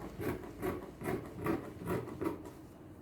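Scissors cut through fabric along a sewing pattern piece for a top with shoulder and waist darts, giving soft, rhythmic crunching snips, about six evenly spaced strokes, close and quiet.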